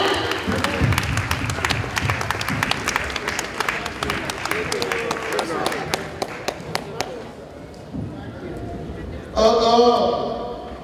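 A crowd at a community dance and dinner applauding with rapid, sustained clapping, loud and close, with voices mixed in underneath; the clapping fades near the end as a voice rises.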